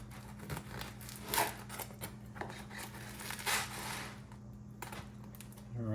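A knife sawing through a crusty no-knead loaf baked in a Dutch oven, a series of close crackly scraping crunches as the crust breaks, uneven strokes with a brief pause partway.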